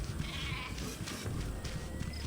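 Sheep bleating in the Planetouched Wilds area of the game RIFT, short wavering bleats over a busy bed of game ambience and effects, a few brief calls within a couple of seconds.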